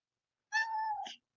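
A cat gives a single clear, drawn-out meow lasting about two-thirds of a second, close and fairly loud, ending with a short upward chirp, with no talking around it.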